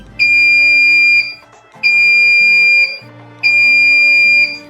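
Three long, loud electronic beeps from a UPS warning alarm repeat at an even pace, each a piercing steady tone with short gaps between.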